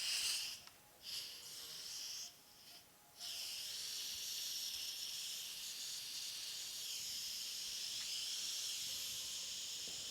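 A pressure cooker vents steam in a kitchen: a steady, loud hiss that starts with a few brief interruptions, then holds constant and close for several seconds, with no speech.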